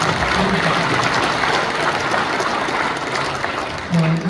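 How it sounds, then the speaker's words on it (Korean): Audience applause at a Korean church men's association general assembly celebration, a dense steady wash of clapping from a large crowd filling the whole stretch, with faint voices near the end. "큰 박수로 수고와 감사를 드리겠습니다."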